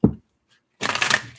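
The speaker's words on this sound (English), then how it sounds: "we're going to have two more shuffles" Tarot cards are shuffled by hand in two bursts of papery riffling: a short brush at the start, a pause of silence, then a longer, louder flurry of close rustling.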